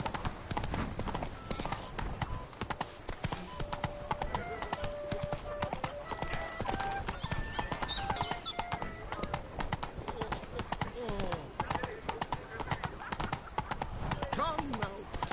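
Roach, a horse in The Witcher 3: Wild Hunt, trotting with rhythmic hoof clip-clops throughout, alongside game music and occasional voices talking.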